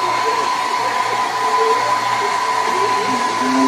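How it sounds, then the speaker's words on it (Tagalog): A hair dryer blows hair with a loud, steady whine and rushing air, a constant tone that runs unbroken from start to finish. "Mas na mag-blower ng buhok nila."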